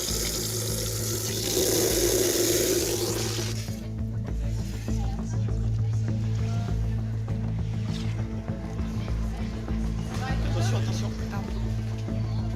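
Cold shower water runs steadily over a penguin to cool it down, a continuous close hiss and splash that is strongest at first and continues under a person talking.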